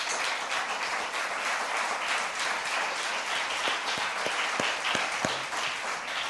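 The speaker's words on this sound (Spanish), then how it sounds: "Dele un aplauso gigantesco a Dios" A church congregation gives a big round of applause, steady dense clapping from many hands in a large room, with a few sharper individual claps standing out toward the end.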